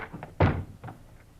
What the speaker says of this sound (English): And then, in a quick movement, they rushed the door to Frank Hadley.